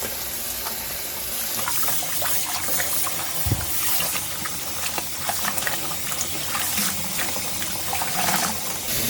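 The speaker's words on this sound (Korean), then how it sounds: "이 소까지 깨끗하게 흔들어 가면서 세 번은 씻어주셔야 돼요" Salted napa cabbage is rinsed in a sink full of water, giving continuous splashing and sloshing with irregular watery swishes and one brief thud, close and fairly loud, with no talking.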